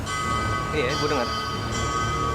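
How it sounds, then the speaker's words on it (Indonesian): A sustained, ominous bell rings steadily, its tone hanging behind a voice speaking throughout. "Lo dengar suara lonceng itu kan?"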